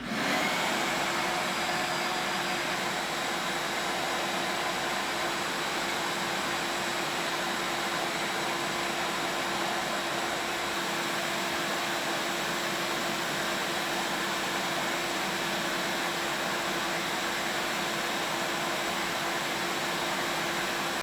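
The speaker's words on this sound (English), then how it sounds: "I'm going to turn the shop vac on and slowly pull all of this in" Shop vac drawing dust through a Dust Stopper bucket lid separator, a steady loud close roar of motor and rushing air with a faint constant hum, unbroken and without talk.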